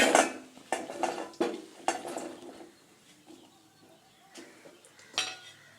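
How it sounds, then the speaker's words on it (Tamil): A metal pot clanks and knocks against a stove several times up close, followed by quieter scattered kitchen clinks. "இப்போ நம்ம ஒரு பாத்திரம் வச்சு இதை அடுப்பில் வேக வச்சிடலாம்"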